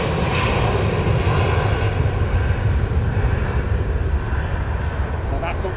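A Boeing 777 airliner taxiing at London Heathrow Airport gives a loud, steady roar of engine noise, close and continuous, while someone talks over it.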